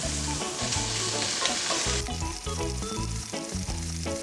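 Bacon fries and renders in a pan with a continuous bright sizzle and crackle, heard over background music with a steady melody.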